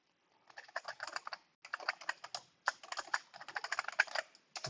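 Computer keyboard typing during a drafting software lesson, in quick bursts of close clicky keystrokes separated by short pauses, with no talking.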